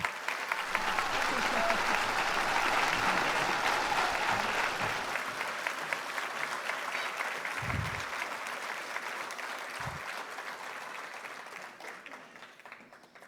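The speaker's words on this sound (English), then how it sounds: "Let's give them a round of applause." Audience at a police merit awards ceremony in Milwaukee gives sustained applause that swells early, then gradually thins and fades, with a couple of low thumps near the end.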